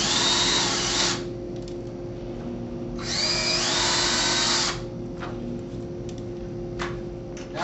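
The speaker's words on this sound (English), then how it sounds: "we can pre-drill our holes." Drill pre-drilling screw holes for a window hinge, two steady high-pitched whirring bursts close by, each roughly a second or two long, with quieter tool noise and a low hum between them.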